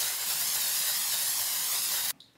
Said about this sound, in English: Spray the bottom of a 9x13 casserole dish with some cooking spray,